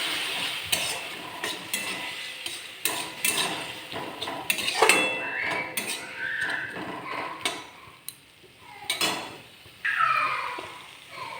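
Soya mince with turmeric and ground spices is stirred and fried in a pan, with repeated scraping strokes of a spoon against metal over a steady, close sizzle.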